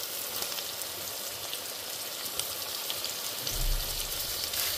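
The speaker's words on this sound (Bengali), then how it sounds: "এখন আমি এর মধ্যে টমেটোটা দিয়ে দিব" Tomato added to frying masala for a pabda fish curry gives a continuous close hiss of sizzling oil, with a low thud near the end as the tomato goes into the pan.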